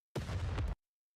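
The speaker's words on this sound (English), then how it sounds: "With the loud explosion, part of the debris blocking the path collapses." A loud, short explosion in the Nikke video game, one dense blast lasting about half a second and then cut off into silence.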